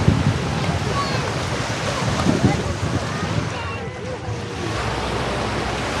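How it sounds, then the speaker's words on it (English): Surf washes onto the beach at Agay, France in a steady broadband roar, mixed with wind buffeting the microphone and faint voices in the background. "We've just headed down for a stroll on the beach."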